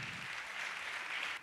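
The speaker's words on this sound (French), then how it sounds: "Je pense qu'on peut tous les applaudir, tous ceux qui construisent des entreprises" Quiet applause from an audience at a crypto founders' event, a brief even wash of clapping heard faintly from a distance before it stops.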